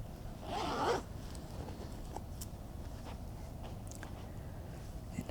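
A zipper on the zip pocket of a Chanel tote bag is pulled once in a short, close rasping burst at the start, followed by faint handling rustles and small clicks.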